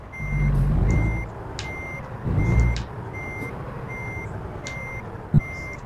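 A truck in American Truck Simulator sounds repeated electronic reversing beeps at a steady interval, loud and close, with engine rumble swelling and fading beneath and a short sharp knock near the end.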